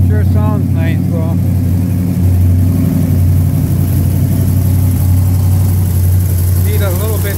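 A 1964 Comet car engine runs loud and steady close by, with a deep constant drone through the whole stretch and slight swells as it revs, while a person talks briefly over it.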